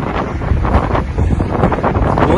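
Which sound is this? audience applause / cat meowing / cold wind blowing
cold wind blowing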